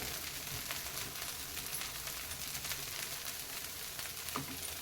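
A beetroot dosa sizzles on a hot pan, a faint, even hiss of frying that carries on steadily and alone, with a light scrape near the end.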